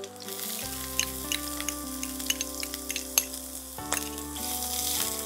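Chopped onion fries in hot oil with a continuous sizzle and scattered crackles and stirring scrapes, set against steady background music.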